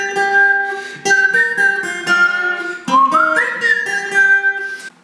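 A person whistles the melody of Egor Kreed's song "Мне нравится", clear and close, a continuous tune of sustained and sliding notes with short breaks between phrases, with no talking.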